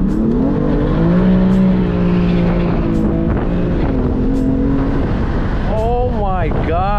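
A BMW F80 M3 engine revving hard while drifting, a loud sustained wail with wheelspin, the pitch shifting through a gear change and surging sharply near the end, no talk.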